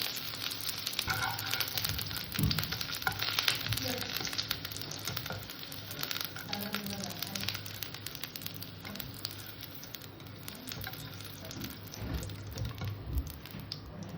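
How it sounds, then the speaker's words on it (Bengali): Food crackles and sizzles in hot oil with a steady dense patter and occasional stirring clicks, close up and fairly quiet, with no voices. "তেলের মধ্যে আলু কটাকে ভেজে নেব"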